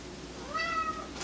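A cat meows once, a short, close mewing call rising and falling over roughly half a second against quiet room noise, with no talking.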